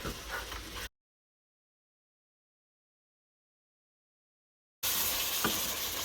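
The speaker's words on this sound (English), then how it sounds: "So now I'm going to incorporate the meat and the spices together." Meat and spices sizzle in a pot of Durban-style mutton curry under steady stirring, heard in two loud bursts at the start and end with a silent gap between.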